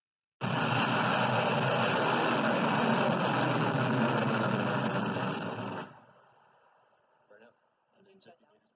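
A loud, dense roar of a SpaceX rocket engine at launch bursts on abruptly and holds steady for about five seconds, then cuts off, leaving faint distant noise.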